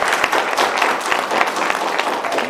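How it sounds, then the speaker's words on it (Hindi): Audience applause after a stage play, a dense, loud wash of many hands clapping that fills the whole moment without pause. "एक बार अपने लिए जोरदार ताली।"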